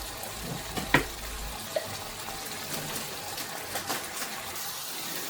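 Seafood frying in a pan with onion and garlic for paella, a soft continuous sizzle with faint crackles and a couple of small clinks, quiet and close, with no talk.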